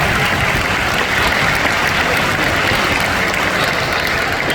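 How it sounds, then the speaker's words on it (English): Dense, steady applause from a large audience at a World Water Day launch event in Singapore, loud and sustained throughout without a break. "Let's give them another big round of applause."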